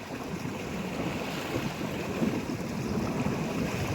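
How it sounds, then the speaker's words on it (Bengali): Roaring water churning in a huge whirlpool on a large river beside a dam, a dense, steady broadband rush with low rumbling and wind buffeting, continuous and loud throughout with no voices. "আওয়াজ কি জলের, বাপ রে বাপ, ভয় লেগে গেছে।"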